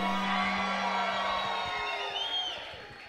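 An audience at the Premios Influenzando 2019 awards show cheers loudly, with shrill whoops and shouts rising over a dense crowd roar and little distinct clapping.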